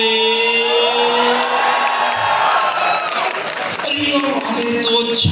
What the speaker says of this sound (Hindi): एक बार पुनः जोरदार तालियों से स्वागत करें